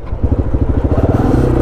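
Motorcycle on a long overland world ride, its engine slightly hot after a cold night, idling close and loud with a fast, even chugging pulse.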